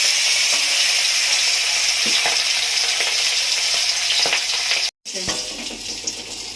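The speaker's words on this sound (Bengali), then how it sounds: "এবার তেল গরম হয়ে গেছে মাথাগুলো ভাজবো" Hilsa fish heads fry in hot oil with a loud, dense, continuous crackling sizzle, broken by a brief dropout near the end before the spattering resumes, with a few faint scrapes and no talking.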